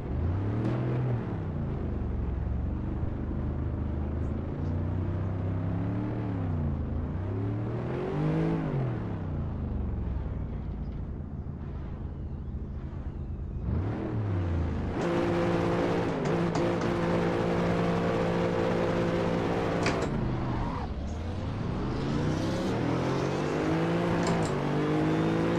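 A race car engine in Assetto Corsa revs hard again and again, pitch sweeping up and dropping back through gear changes, loud and close and filling the whole stretch, with the tone brightening sharply in the second half.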